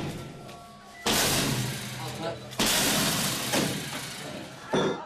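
During a Turkish police drug raid, a battering ram breaks open doors that would not open, in loud, heavy crashing bursts. A news narrator talks over the scene.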